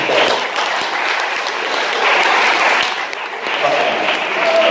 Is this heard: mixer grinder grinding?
no